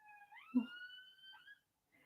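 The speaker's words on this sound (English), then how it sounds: "Can you hear that? There's a siren." A faint, distant siren wails in rising and falling tones for about a second and a half, then fades out, with nothing else around it.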